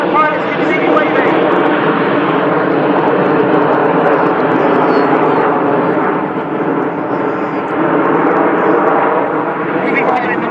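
Red Arrows jets roar loudly and steadily overhead while flying the Eagle roll at the Wales National Air Show in Swansea, a continuous dense jet rumble that never lets up.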